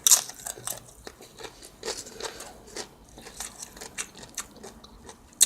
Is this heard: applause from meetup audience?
no